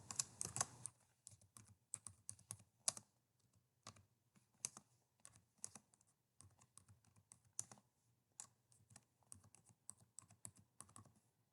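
Keys on a computer keyboard are tapped in quick bursts, short clustered clicks separated by brief pauses, close by and fairly quiet, with no voices.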